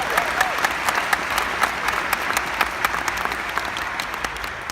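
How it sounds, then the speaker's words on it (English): A book-tour lecture audience breaks into sustained applause, a broad wash of clapping from a large hall with a few crisp individual claps popping out, and no talking over it. "Yeah, you can applaud good ideas, that's right."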